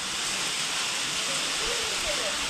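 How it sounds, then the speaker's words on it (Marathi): Rain falling at Panchgani, a steady even hiss of drops on surfaces, close and continuous for a brief moment with no other clear sound. "आम्ही जस्ट इथे पोहोचलोय आणि बघा इथे पाऊस चालू झालाय।"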